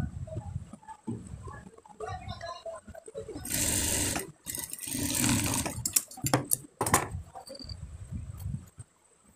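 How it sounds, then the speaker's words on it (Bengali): A sewing machine stitches the shoulder seam of a 4-year-old child's kabli panjabi in several short runs, with the longest whirring bursts in the middle. Quiet handling and pauses fall between the runs. "নিচের পার্টটা ঘুরে এসে কাঁধে সেলাইটা জয়েন দিতে হবে"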